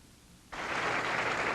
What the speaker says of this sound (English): The applause you hear is for Steve Cook